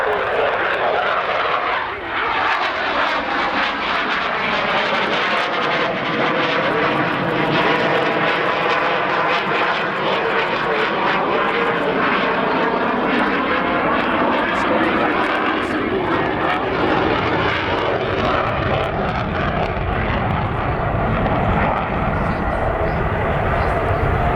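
An aircraft at the RAF Cosford airshow flies a barrel roll with its undercarriage down, its engine roar loud and continuous throughout, swelling and shifting in pitch as it passes.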